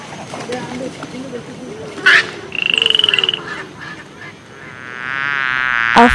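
A frog croaks in short bursts, including a quick pulsing trill, among other animal sounds, followed by a rising buzzy drone near the end.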